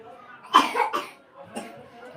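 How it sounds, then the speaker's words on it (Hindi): A child with a severe cough that has lasted three or four days coughs in a few close, harsh bursts, with a last cough after a short pause. "इसको 3-4 दिनों से बहुत तेज़ खांसी हो चुकी है"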